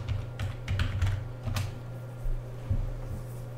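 Password being typed on a computer keyboard during an Ubuntu MATE 18.04 software install: a quick run of close, crisp key clicks in bursts with short pauses, no talking.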